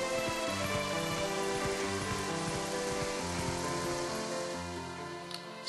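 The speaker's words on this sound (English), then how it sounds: "I just hate the rain." Steady rain falling in the Zelda: Twilight Princess video game, a dense continuous hiss of drops on surfaces that holds at an even level throughout under low tonal game music.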